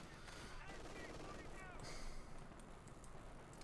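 Rapid machine gun bursts crackle through a dense Company of Heroes 2 battle, mixed with other gunfire and rumbling explosions, while a commentator talks over the action.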